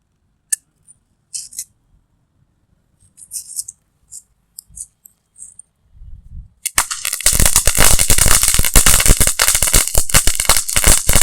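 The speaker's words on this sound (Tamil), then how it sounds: "இது சட சட சட வெடிக்கும்" Sivakasi firecrackers bursting in a dense, loud, continuous crackle that erupts after a few quiet seconds of scattered small clicks and handling noises.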